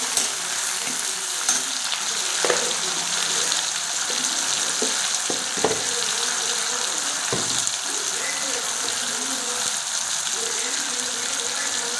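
Onions frying with garlic, coriander stems and curry leaves for an egg gravy, a steady close sizzle and crackle with occasional stirring knocks throughout.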